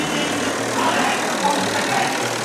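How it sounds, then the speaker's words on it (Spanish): A tractor engine idles at a street parade of decorated carts during a January town festival, a steady low rumble under the broad wash of crowd noise. "Miren, amigos, ese tractor."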